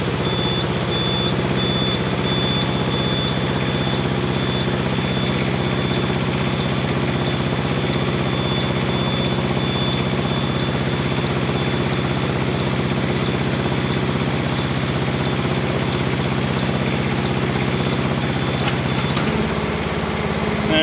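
A CMC 75L 75 ft compact tracked spider lift lowering its platform, with a steady engine or hydraulic drone and a continuous high beeping alarm that stop abruptly near the end.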